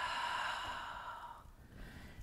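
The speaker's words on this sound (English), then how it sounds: "And one fierce exhale here." A person doing yoga lets out one forceful breath through the mouth, a loud, close rush of air that fades away over about a second and a half.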